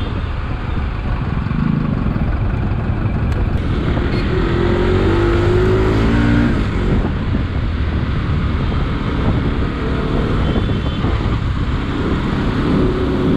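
Cars and other vehicles moving through traffic near a market on a festival day, heard from a moving motorcycle as a steady, loud rush of engine noise and wind with no talking.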